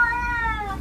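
A kitten gives one short, clear meow, close and lasting under a second.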